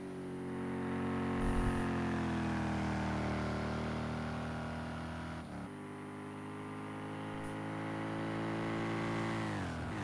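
A racing car engine in a Le Mans 24 Hours sim race drones at sustained high revs, with pitch sliding down and climbing again as it shifts, loud and continuous throughout.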